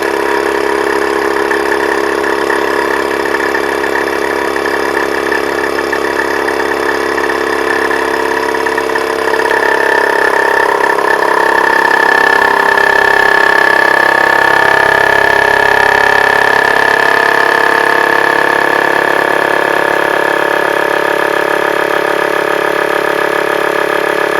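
A vacuum sealer pulls the air out of a plastic bag packed with dried hops, a loud steady motor drone running for over twenty seconds and shifting slightly in pitch midway as the bag tightens.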